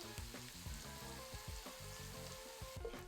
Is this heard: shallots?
yes